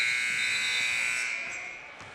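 An end-of-quarter buzzer at a boys high school basketball game in a gym, a loud sustained electronic tone lasting about two seconds that fades slightly toward the end, with no talk over it.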